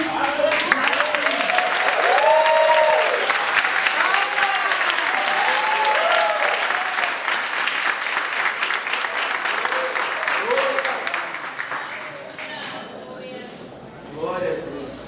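Church audience at a gospel singing competition applauds and cheers warmly as a contestant is welcomed, long dense clapping with vocal whoops, easing slightly toward the end.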